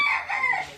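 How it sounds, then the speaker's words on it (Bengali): A rooster crows among a flock of chickens on a foggy winter morning in a village, one brief, clear, fairly close call with no talk over it. "ওই যে মুরগিগুলো কি শুরু করছে"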